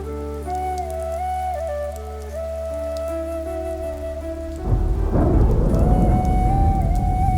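Heavy rain pours steadily outside, close and loud, with low thunder rumbling beneath it, after a stretch of sustained tonal music.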